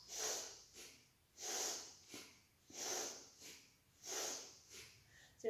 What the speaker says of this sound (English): We're breathing in and out through the nose.